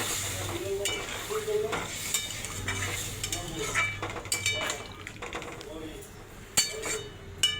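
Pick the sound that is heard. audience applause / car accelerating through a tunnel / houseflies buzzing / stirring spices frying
stirring spices frying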